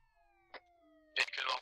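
A police vehicle siren wails in a long, slowly falling tone during a patrol, while sudden loud bursts of voice or noise break in near the end.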